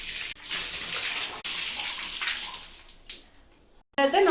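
Water poured over the head during a bath, splashing and gushing in uneven bursts with short pauses, fairly close, ending with a brief clatter.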